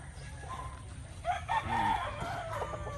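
Young gamefarm stag roosters crow faintly in the background over a steady low outdoor rumble, one clearer crow rising in the middle among scattered distant calls.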